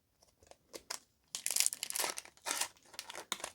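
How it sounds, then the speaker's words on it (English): A Pokémon Fusion Strike booster pack is torn and crinkled open at close range, bursts of crisp foil crackling and ripping in uneven spurts after a few light handling clicks. "At least the packs are opening easier."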